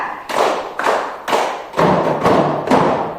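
A class of students claps in unison on a teacher's count, giving six rhythmic, evenly spaced volleys of loud group hand claps with no talking.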